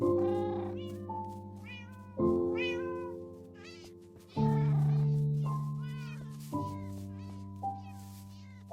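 A cat meows several times in Minecraft, in short rising calls spread over a steady background of layered music or drone.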